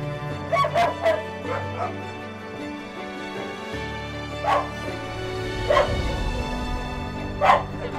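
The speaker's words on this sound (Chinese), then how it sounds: "狗狗的叫声很大，第一次进去一定会被吓到，会蛮震撼的" Dogs barking loudly inside an animal shelter, several sharp barks and yips in clustered bursts with a steady low hum of the kennel room underneath.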